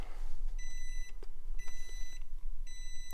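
A Jeep JL switch panel beeps at power-up in three separate bursts of high, steady electronic tones, each about half a second long, over a quiet room.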